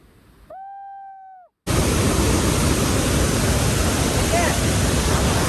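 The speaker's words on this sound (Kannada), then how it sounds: "doodh Sagar water falls" Dudhsagar waterfall on the Goa–Karnataka border roars after a short tonal sound and a brief gap, then a loud, steady, broadband rush of falling water fills the rest of the clip.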